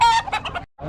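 A rooster crows at a chicken market in Bocaue, a short loud cock-a-doodle-doo close by, ending in a brief pause before more fowl noise.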